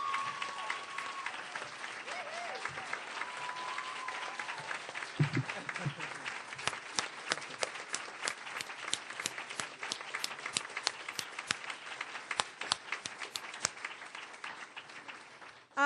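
An indoor audience applauds steadily for youth leaders, a dense patter of clapping that runs on for many seconds, with a few voices audible early on.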